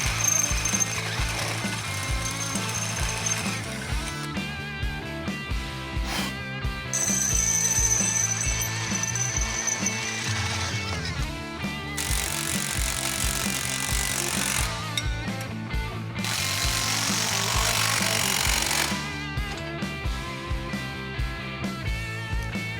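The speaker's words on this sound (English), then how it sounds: "we need to drill out the spring pad perch here a little bit." A power drill bores out the spring pad perch on a 2012 Jeep JK axle during a suspension install, a steady grinding whine in long bursts with brief pauses and ratcheting, loud and close, without talking.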